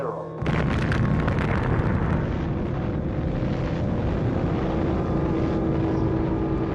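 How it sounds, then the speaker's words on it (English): Detonation of the first atomic bomb, with a yield of about 20,000 tons of TNT: a sudden loud blast that swells at once into a long, sustained, roaring rumble with no voices. "With that powerful explosion, scientists unleashed the strong nuclear force"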